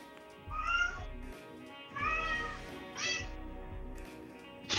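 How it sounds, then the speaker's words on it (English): A pet cat lets out three drawn-out, wavering meows that rise and fall like a crying baby, spaced about a second apart and heard up close, with no talking. "Your cat sometimes sounds like a crying baby, like that"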